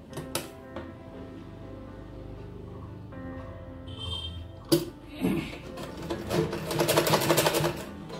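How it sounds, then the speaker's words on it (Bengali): A sewing machine stitches a shirt collar, starting with light clicks and a low hum, then running into rapid, rattling stitching that grows louder and busier toward the end, close and steady. "এবার আমি পুরোটা সেলাই করে নেব।"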